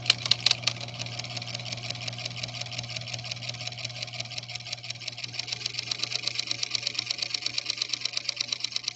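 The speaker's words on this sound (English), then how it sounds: "now we're going to try to wind a bobbin" Husqvarna Viking sewing machine running steadily while winding a bobbin, giving a continuous mechanical whir with a fast regular ticking that stays even and close for the whole stretch, with no talking.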